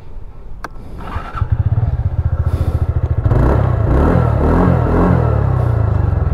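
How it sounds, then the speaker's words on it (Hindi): A TVS Ntorq 125 Race XP scooter starts up, then its exhaust settles into a loud, close, rapid putter and rises as the throttle is blipped into a steady, louder drone. "पहले इसका एग्जॉस्ट नोट सुनो, फिर हम चलते हैं इसके राइड पे।"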